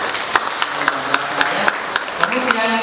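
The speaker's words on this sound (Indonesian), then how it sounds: "Nah, tepuk tangan dulu." Applause at a young entrepreneurs' training session in Karangasem, greeting an award-winning videographer; light, scattered clapping from a modest group, with a few sharp individual claps standing out against a murmur of voices.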